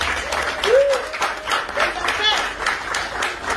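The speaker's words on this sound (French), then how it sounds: "Applaudissez pour les parents." Guests at a ceremony clap for the bride's parents, a dense, even patter of hands filling the room, with a brief voice rising over it near the start.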